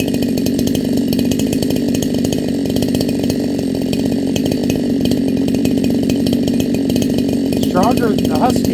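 An AmotoSport 68cc 20-inch gas chainsaw (CMA 6800) idles steadily up close, a continuous loud engine drone warming up, with a brief voice near the end.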